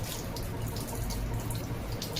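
Hands washed under a running tap at home, with a parrot kept nearby; a steady, moderately faint stream of water with light splashing throughout, no talking.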